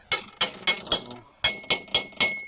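A small hammer strikes a bent part of a DEFIANT electric jigsaw in eight sharp metallic taps, two quick groups of four with a short pause between, close and ringing.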